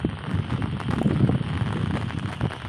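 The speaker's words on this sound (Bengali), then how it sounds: "আমাদের এলাকায় প্রচুর বৃষ্টি সকাল থেকে একটানা বৃষ্টি চলছে" Heavy, continuous rain falls in a rural area, a dense steady wash of noise with some wind rumble and no voices.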